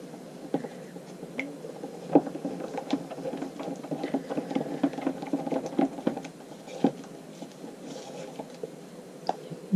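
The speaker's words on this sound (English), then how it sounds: "we'll give this a really good stir now" Stirring shimmer powder into casting resin in a cup, a steady soft patter of scraping and tapping with irregular small clicks, close and fairly quiet, no talking.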